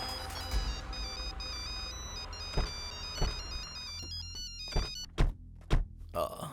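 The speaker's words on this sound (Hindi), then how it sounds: "इनका पोता फोन कर रहा है यार।" A mobile phone rings with a repeating electronic ringtone melody in a steady pattern, joined by several loud thumps toward the end, with a busy street or vehicle setting around it.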